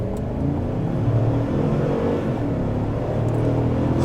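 A 2024 Cadillac Escalade ESV accelerates hard from a standstill, its engine a steady, full low roar with a rising whir, heard from inside the cabin for about four seconds with no talk.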